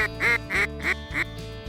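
Pintail ducks quacking close by on a North Dakota morning, four or five nasal calls in a quick regular series, loud and clear with no talk.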